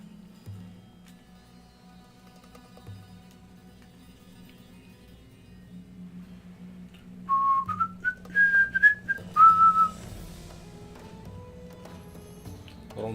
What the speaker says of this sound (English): Wrong tune, I started whistling the wrong one.